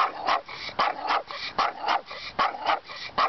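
A dog in a yard at the edge of an alley barks repeatedly in a steady series of sharp, moderately close barks, with no talking.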